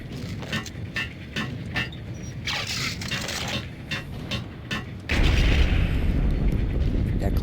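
Video game explosion in the Apocalypse Cop stream, heavy booming blasts over a run of sharp repeated impacts, then a louder, sustained rumbling roar during the last couple of seconds.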